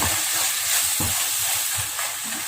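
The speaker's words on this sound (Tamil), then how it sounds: "கிண்டி விட்ருங்க" A bitter gourd mixture is stirred as it fries in a pan, with a dense close sizzle and soft scraping stir strokes, no voices.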